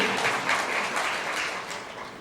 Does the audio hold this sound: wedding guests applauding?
yes